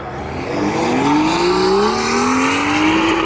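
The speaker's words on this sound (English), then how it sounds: "the Mark 5 Supra right here. Lord, does that one sound good." A Toyota Supra Mk5 pulling away from a cars-and-coffee meet, its engine revving loudly and rising in pitch through a sustained pull, heard up close with no talk.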